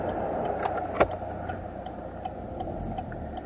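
A car passes on the road outside a vehicle during a driving lesson, a soft continuous rumble with faint ticking, heard alone at a moderate distance.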